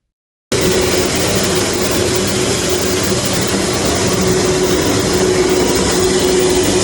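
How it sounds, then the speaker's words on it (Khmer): A small household rice milling machine runs continuously after a sudden start, a loud steady mechanical roar and whir with a constant hum, close by and alone. "មកមើលម៉ាស៊ីនរែងអង្ករខ្នាតតូចតម្លៃធូរថ្លៃតែសមត្ថភាពខ្លាំង តោះមកស្ដាប់សំឡេងទាំងអស់គ្នាមើល"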